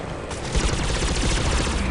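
Dense, continuous gunfire from a Mass Effect 3 firefight, a loud sustained barrage of overlapping shots that swells about halfway through and keeps rolling.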